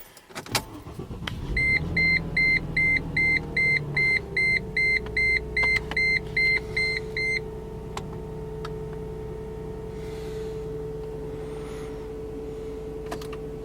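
A farm vehicle's engine idles steadily with a low hum, while a rapid series of electronic beeps chirps over it for several seconds before stopping.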